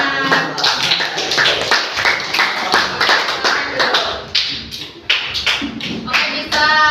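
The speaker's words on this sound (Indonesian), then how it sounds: "Tepuk tangan." A classroom group claps in a quick patterned rhythm, bursts of hand claps repeating steadily for several seconds with a brief pause near the end and faint voices mixed in.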